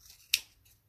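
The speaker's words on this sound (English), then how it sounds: "I'll just cut a small portion off so I can show you guys each one as we lay it on" Scissors make a single crisp snip through white cardstock, one short sharp cut standing out near and clear against a quiet background.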